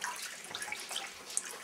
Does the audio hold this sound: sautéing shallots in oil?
no